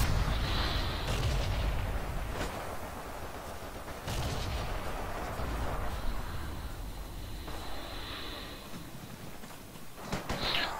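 Battlefield gunfire in the World War II shooter Forgotten Hope 2, with repeated sharp shots and heavier booming reports echoing at varying distances over a constant rumbling background.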